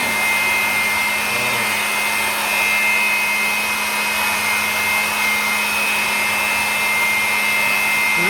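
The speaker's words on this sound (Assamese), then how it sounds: "এইটো হাৱা মেচিন, এইটো দি তাক হাৱা মাৰি দিম।" A hair dryer blows hot air in a loud, steady whine that holds unchanged from start to finish, close up and with no talking.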